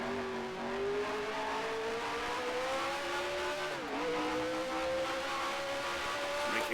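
A race car engine drones steadily at a high pitch through a turn in the Grand Prix Legends racing game, dipping briefly as the car slows and then climbing again, loud and continuous with no talk.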